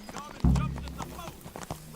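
A horse in Kingdom Come: Deliverance clatters along in quick hoof beats, with a heavy low thump early on, close and fairly loud, while a voice talks over it.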